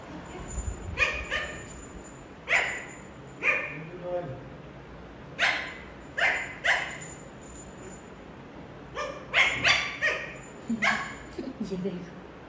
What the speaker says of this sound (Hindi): भौंकना शुरू कर दिया है इसने।